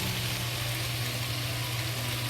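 Carrots and pepper frying with sausage and cauliflower in a pan, a continuous, even sizzle with a low steady hum beneath, close and unbroken, no talking.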